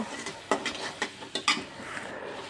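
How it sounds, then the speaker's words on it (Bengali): Prawns and dried chepa shutki fish get stir-fried with spices in a pan: a handful of distinct scraping and clanking spatula strokes with only a faint sizzle beneath, fairly quiet and close. "এগুলো আমি মশলার সাথে একটু নেড়ে চেড়ে কষিয়ে নিব"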